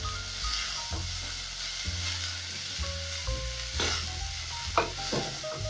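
Cabbage and onion frying in cooking oil over high heat, with a steady loud sizzle and the repeated scrape and clatter of stirring throughout.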